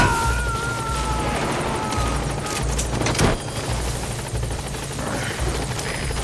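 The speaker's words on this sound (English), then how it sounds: "Support helicopter has arrived." A support helicopter in Metal Gear Solid V: The Phantom Pain hovers close by, its loud rotor chop thumping steadily with turbine whine and a brief burst of louder noise midway.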